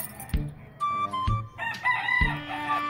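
A rooster at a street cockfight crows in loud, close, raspy bursts, broken by a few dull low thumps, with no talking.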